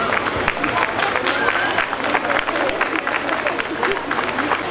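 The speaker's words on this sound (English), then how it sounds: "Please cheer for our little stars." An audience cheers and claps steadily for nursery students' welcome dance at a school event, a dense, continuous burst of applause with some voices mixed in.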